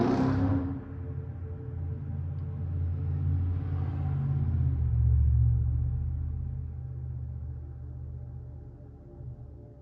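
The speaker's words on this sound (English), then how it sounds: "Those loud cars." Loud cars passing outside, a low steady rumble that swells and fades over several seconds with no talking.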